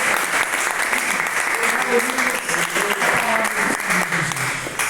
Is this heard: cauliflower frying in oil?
no